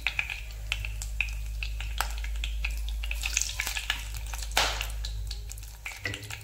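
Cumin seeds and bay leaf hitting hot oil and ghee for a paneer biryani, a steady close sizzle running throughout with a sharper crackling burst near the middle; no one speaks.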